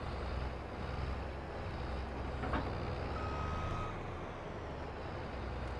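A truck's engine rumbles steadily while it reverses to hitch a trailer in Farming Simulator 22, with a single reversing beep around the middle against constant background noise.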